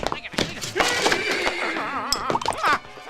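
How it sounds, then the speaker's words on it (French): A cartoon horse bolts and neighs loudly in a wavering whinny, mixed with thumps and clatter of hooves, with excited voices over it. "Mon cheval s'est emballé."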